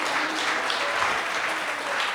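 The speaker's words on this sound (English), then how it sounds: "Let's give him a big round of applause" A Srila Prabhupada festival audience applauds a speaker with a steady, even patter of many hands clapping, moderately loud and continuous for the whole stretch.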